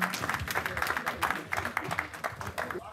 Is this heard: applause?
yes